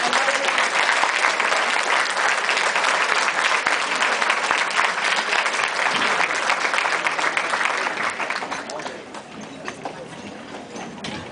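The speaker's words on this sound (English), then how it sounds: "Let's give another round of applause to Valarie." Sustained audience applause at an academic honors and awards ceremony, a dense continuous wash of clapping that stays loud for about eight seconds before thinning out and fading toward the end.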